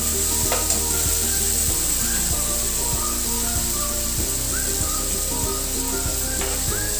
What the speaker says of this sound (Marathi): आता ह्याच्यात टोमॅटो टाकून घेऊया।